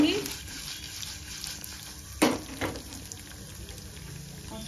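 Chana dal and urad dal roast in a pan, a soft continuous sizzle with a couple of brief stirring clinks, fairly quiet.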